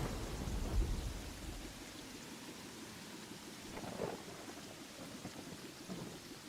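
A Terraria video game thunderstorm with lightning: steady rain hiss and low rolling thunder rumbles over several seconds, fairly faint and even throughout, with no talk.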